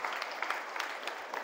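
Applause from the audience at a public speaking seminar held at a vocational high school in Jakarta, a brief dense burst of steady clapping from many hands, close and even, with no voices on top.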